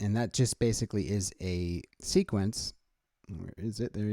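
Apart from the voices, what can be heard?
No distinct noise like a dog, phone or traffic.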